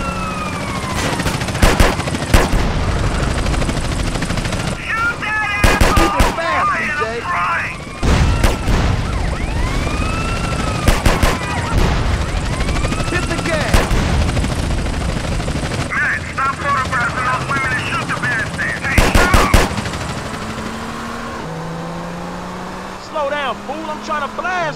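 A police helicopter's rotor drone and bursts of gunfire in GTA San Andreas, with a siren-like wail and repeated sharp volleys; the chopper hums continuously while shots punctuate it and voices talk intermittently.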